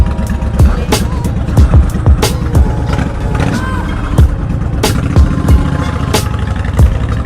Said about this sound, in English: Honda VTX, bro. This thing scoots.